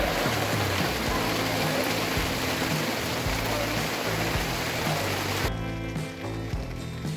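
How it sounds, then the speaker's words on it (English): Heavy thunderstorm rain pounding a sailboat, a dense, loud, continuous hiss with scattered drips and knocks that abruptly thins near the end, while a television plays faintly underneath. "The rain is so loud we can barely hear the television anymore."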